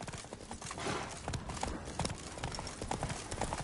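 Horse hooves gallop in a quick, rhythmic clip-clop in the video game Witcher 3, close and loud over a noisy background, with a possible whinny early on.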